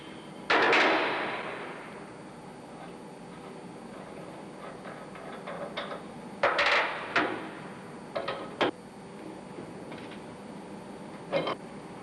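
Sharp metallic taps of a tin hammer on a valve spindle of a BMW K90 engine air starting valve ring out one at a time, a louder strike first, then scattered light knocks in small clusters with quiet gaps between.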